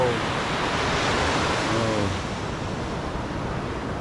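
Sea waves wash steadily at Bukana, a continuous broadband roar of surf mixed with wind buffeting the microphone, loud and close, with a brief faint voice-like tone partway through.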